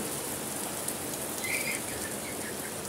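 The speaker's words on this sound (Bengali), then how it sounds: "গাছগুলা কি রকম নীরবে বৃষ্টিতে ভিজতেছে" Steady rain patters on leaves in a continuous soft hiss, with a faint bird chirp briefly audible in the background.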